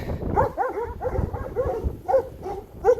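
Several dogs outside in a yard barking in a quick series of yips and woofs, close and loud, with no talk.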